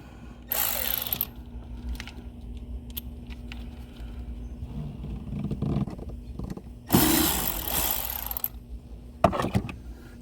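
Hand tools work loose the battery terminals on a 2007–2010 Mercedes-Benz S65 (W221), with two loud bursts of rapid ratcheting clicks separated by quieter handling noises, up close and without speech.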